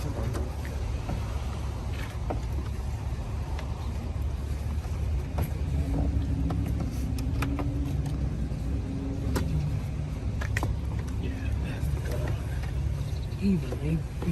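A Mercedes S550 engine runs after an ignition coil replacement meant to cure a misfire, giving a steady, close mechanical rumble throughout with faint voices in the background.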